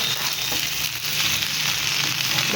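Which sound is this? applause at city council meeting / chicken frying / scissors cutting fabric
chicken frying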